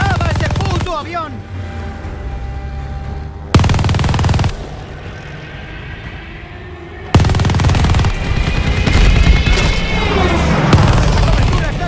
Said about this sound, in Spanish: ¡Disparaba ese puto avión!